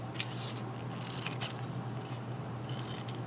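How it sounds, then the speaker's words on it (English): Scissors snipping freehand through a small square of paper to cut out a star shape, a quiet, steady run of close crisp cuts over low background hiss. "just going to cut out a little bit of a square so I can try to cut out a star"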